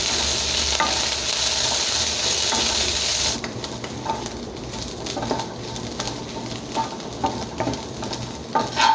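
Dried prawns fry in a pan over a low flame with a steady sizzle, then quieter crackling and scattered stirring scrapes and taps take over partway through.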